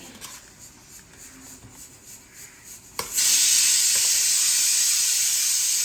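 A pressure cooker cooking chicken curry lets out a loud, sustained steam whistle that bursts in suddenly after quieter kitchen rustling and holds steady to the end.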